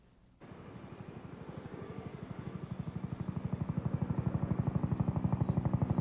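A helicopter drones overhead, its rotor beating in a steady low pulse that grows gradually louder and closer over several seconds, with no voices.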